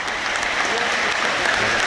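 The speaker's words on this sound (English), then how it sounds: "Deepdale embraces in a minute's applause" The stadium crowd at Deepdale gives a minute's applause during the Preston North End v Wigan Athletic FA Cup match, a broad, sustained roar of clapping filling the ground.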